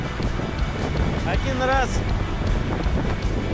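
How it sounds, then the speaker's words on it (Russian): Strong wind roars steadily against a rider on an Avantis Enduro motorcycle, a loud, constant buffeting rush from start to end, while a voice speaks briefly over it. "Ветер настолько сильный, что просто срывает."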